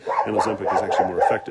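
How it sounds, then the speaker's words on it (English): Several dogs bark in the background at a neighbor passing on the road outside a home, with the short barks partly buried under someone talking close by. "Pardon the dogs barking."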